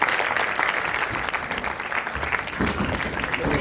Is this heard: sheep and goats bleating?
no